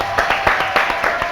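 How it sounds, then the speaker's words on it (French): Audience clapping for a singer in a live radio studio show, a brief burst of evenly spaced, fairly close claps with no voices over it. "on va l'applaudir les filles"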